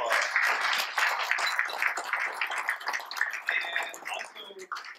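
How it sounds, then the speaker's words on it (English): An audience at a leadership luncheon clapping for city council members, a dense wash of applause that holds strong, then thins and fades toward the end. "please give the city council members a round of applause"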